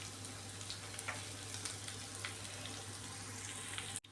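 Potatoes for a masala batata fry frying in a pan over medium-high flame, a steady soft sizzle with small crackles and a low electrical hum underneath, no voices.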